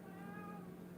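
A cat meows once, quiet and somewhat distant, a short tonal call.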